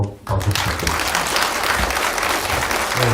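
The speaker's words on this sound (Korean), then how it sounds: "두 번째 발표를 해주신 오정원 편집장님께 다시 한번 박수 부탁드립니다" An audience claps at a lecture. After a brief quiet start, dense applause swells and holds steady, filling the room throughout.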